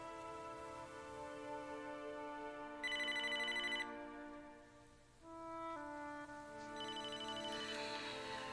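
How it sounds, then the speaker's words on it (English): Cell phone ringing in a quiet room, a bright electronic ringtone repeating in bursts with a brief pause between rings, moderately loud and alone without talk. "your cell phone is ringing"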